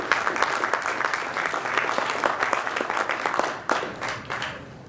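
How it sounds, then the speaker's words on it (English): Audience applause at a presentation: a modest group claps in distinct, uneven bursts, near and moderately loud, with a brief lull and a renewed flurry toward the end. "please give a round of applause to Janek Mehta."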